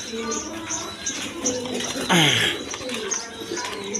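Pigeons kept with eggs and chicks cooing softly and repeatedly nearby, with a brief louder call and a voice talking over them.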